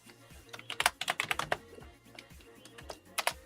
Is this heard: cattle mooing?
no